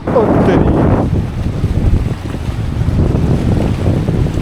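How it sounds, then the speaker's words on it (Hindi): Sea waves roll in at the beach, a steady loud rush of surf mixed with heavy wind buffeting the microphone, with no talking. "देख रहे हो गाइस, देख रहे हो कैसे लहरें आ रही है भाई साहब"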